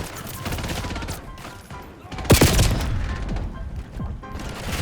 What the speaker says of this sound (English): Enemy shooting.